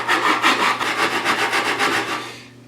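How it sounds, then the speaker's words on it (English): A hand saw cuts a blind dado in wood, worked back toward a chiseled gap with the toe of the blade, giving about a dozen even, rasping push strokes, close and clear, then a fade. "I can drop my saw in that and work my way back"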